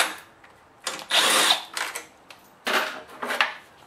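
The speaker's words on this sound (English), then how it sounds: "I'll remove the two 10mm bolts over here" A power tool takes 10mm bolts off the engine cover of a lawn tractor, making a series of short, close whirring bursts separated by brief pauses, with no speech.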